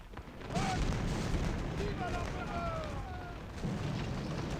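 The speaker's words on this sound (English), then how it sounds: "Our artillery just routed that battalion." Artillery fire in a Napoleonic Waterloo battle video game: a continuous low rumbling barrage with booms, loud and sustained across the whole stretch, with faint battlefield tones in the background.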